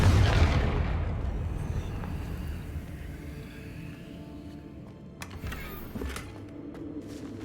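A Confringo spell explosion erupts in the Hogwarts Legacy video game, a heavy booming blast up front that fades into a low rumbling tail, followed by a few sharper crackling bursts later on.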